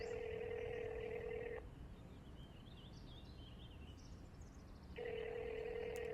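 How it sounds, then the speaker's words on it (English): A telephone ringtone heard after a number is dialled in an Equestria Girls episode, two bursts of a steady ringing tone separated by a pause of about three seconds, with faint chirpy sounds in the gap. "Pony Meets World reference there with the ringtone"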